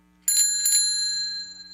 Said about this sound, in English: So if you pull the handle twice, you're actually getting 4. It sounds like this.